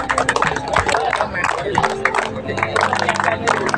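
Students at a Maharashtra police recruitment pre-training workshop clap for the women police trainers, giving a thick, close burst of many hands that runs continuously beneath a voice talking over it.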